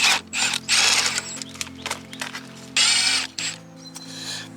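A ratchet wrench works on a corroded starter from a boat engine, giving bursts of close, quick clicking separated by short pauses over a low mechanical hum.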